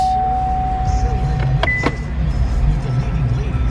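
Power windows of a 2018 GMC Terrain Denali whirring briefly inside the cabin, a short motor hum with a couple of faint clicks amid low interior noise.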